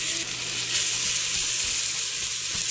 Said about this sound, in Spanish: vamos a revolver muy bien para que se guise la cebolla y agarre buen sabor con la mantequilla y el arroz